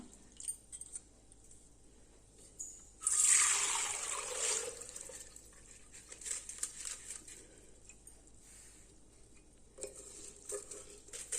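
Water pours and drains through a strainer in a short burst, followed by quieter dripping and small clinks of kitchenware.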